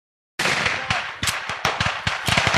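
Machine gun fire at a WWII battle reenactment in the open, a dense burst of rapid cracking shots with sharp peaks, fairly loud and continuous for a couple of seconds after a silent start.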